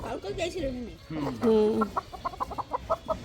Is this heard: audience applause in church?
no